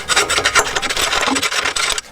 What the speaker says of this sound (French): D'abord, je vais passer un coup de lime dedans.